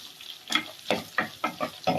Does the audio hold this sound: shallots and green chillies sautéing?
yes